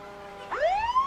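Ambulance siren from the Northampton Rescue Squad passing in a 1994 Hampton Holly Days parade: a steady tone under crowd noise, then a loud rising wail that swells up and holds, close by.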